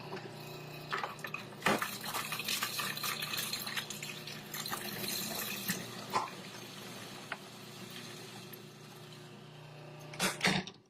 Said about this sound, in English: with the machine on and running, we're going to drop in the garlic and the jalapeno through the feed tube